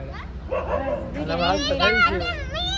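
Small puppies bark in short yips on a relative's farm, mixed in with children's voices and adult chatter close by throughout.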